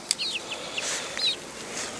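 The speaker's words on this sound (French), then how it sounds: "Je vois pas encore la différence si c'est des coqs ou des poules." Chickens make short, high chirping calls, several in quick succession nearby, over a faint steady background.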